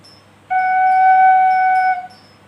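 A single soft, steady wind-instrument note sustains for about a second and a half, then fades, with faint background hiss.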